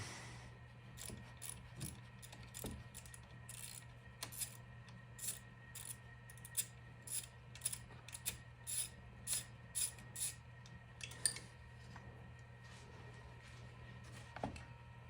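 A hand ratchet undoes a 13 mm nut on a car engine with quiet, rapid clicking strokes in short repeated bursts over a steady low background hum.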